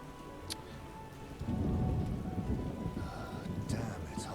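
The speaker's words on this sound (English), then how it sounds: "Not good, it's raining." Video game rain from The Witcher: Enhanced Edition: steady rain hisses with a low rumble swelling in partway through, like a storm rolling in, with faint voices in the background.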